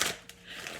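A brief burst of oracle cards being shuffled, a soft papery riffle at the start followed by quieter handling, close and fairly faint.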